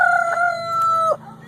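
A large rooster crows once at a safari park, close and loud, a long drawn-out call that drops off sharply at the end.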